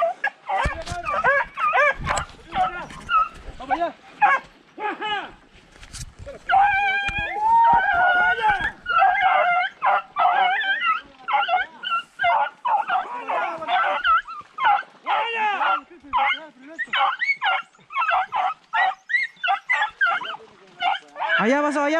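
Hunting dogs on a rabbit hunt in the Chilean countryside give repeated yips, barks and whimpers at close range, in busy excited bursts, while people talk over them.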